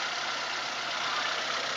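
A 2014 Toyota Avanza Type E engine idling with the hood open, a steady even hiss-like hum with no voices.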